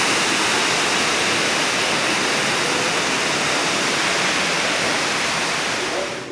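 A running water feature inside the Guinness Brewery in Dublin gives a steady, loud, close rush of splashing water that holds evenly throughout and fades at the very end.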